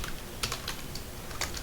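A computer keyboard being typed on, several quick, close key clicks in an uneven rhythm over quiet background hiss, with no voices.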